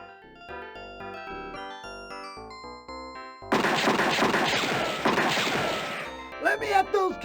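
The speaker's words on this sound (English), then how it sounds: "Without warning, you hear gunshots out in front of the saloon, plus lots of yelling and shouting." Music plays, then a loud burst of rapid gunshots and clattering crashes erupts outside a saloon in the Freddy Pharkas: Frontier Pharmacist game, followed by shouting voices.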